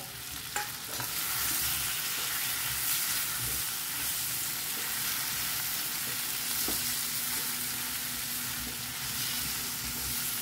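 A spoon stirs masala with ivy gourd in a hot pan, giving a steady loud sizzle and hiss with occasional scraping knocks against the pan.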